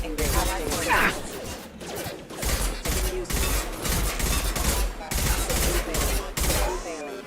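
A firefight rattles in the Mass Effect 2 video game, with rapid weapon bursts and heavy impacts one after another. Loud and constant, under game voices and radio-like chatter.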